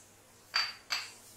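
Semolina (rava) poured into a large bowl for suji pakora gives two short, close clinks about a third of a second apart, with a faint steady hum behind them.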